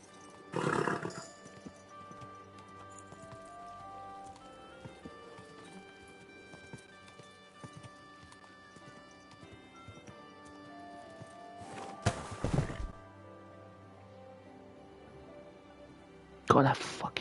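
A horse in the video game Kingdom Come: Deliverance 2 whinnies in three loud bursts near the start, middle and end, with quiet clip-clopping hooves and steady game ambience in between.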